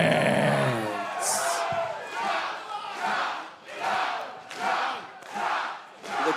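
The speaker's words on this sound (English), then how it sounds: "the sounds of the word chop echoing through the Davis Arena" Wrestling arena crowd at the Davis Arena for an OVW tag team match, loudly chanting "Chop" in a steady repeated rhythm, about six roaring shouts spaced roughly a second apart after an opening swell of noise.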